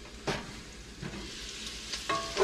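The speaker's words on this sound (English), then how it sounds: "I hear it sizzling." Smoked sausage browns in a pan for chili, a quiet steady sizzle broken by several sharp stirring scrapes.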